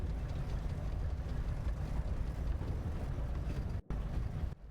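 Plane creaking and groaning over a steady idling engine in the Deadstick flight sim game, a continuous low droning rumble that holds throughout before cutting out briefly near the end.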